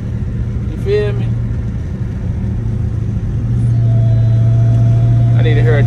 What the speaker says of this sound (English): I like the way this one sound and all, but I need more of a high pitch type whine.